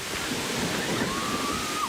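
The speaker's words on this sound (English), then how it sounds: "A waterfall forming down the stairs of Sydney's Town Hall station." Steady, dense rush of rainwater cascading down the stairs of Sydney's Town Hall station during a storm, a continuous hissing cascade with no pauses, fairly close and loud.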